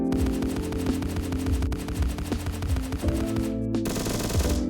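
Video game gunfire from a Minecraft gun mod, with loud continuous bursts of rapid automatic shots and mechanical clatter that keep going almost without pause, then end in a brief different burst.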